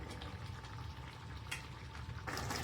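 Pot of water with rice boiling for biryani, a steady bubbling hiss at close range that grows a little brighter toward the end.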